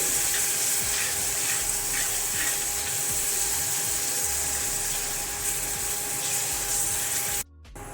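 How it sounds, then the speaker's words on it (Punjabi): Grated onions fry in oil for a rajma tadka, giving a loud, continuous close-up sizzle with a faint steady hum beneath, briefly dropping away just before the end. "ਪਿਆਜ਼ਾਂ ਨੂੰ ਆਪਾਂ 4-5 ਮਿੰਟ ਵਾਸਤੇ ਤੜਕੇ ਦੇ ਵਿੱਚ ਚੰਗੀ ਤਰ੍ਹਾਂ ਭੁੰਨਾਂਗੇ"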